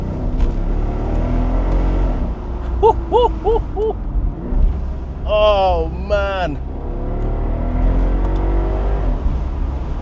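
A Mercedes SL63 AMG's 5.5 litre V8 rumbles loudly and steadily in Sports Plus mode, with a rising rev swell near the end, while someone speaks briefly over it.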